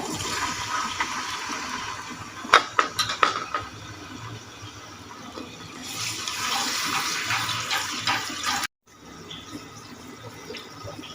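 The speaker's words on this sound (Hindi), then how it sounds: "थोड़ा सा पानी ऐड कर देंगे।" Water rushes steadily into a metal pan while cooking aloo palak, with a few clinks of utensils near the start and a brief cut partway through.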